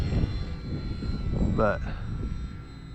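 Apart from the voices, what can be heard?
Durafly Tundra RC model airplane flying low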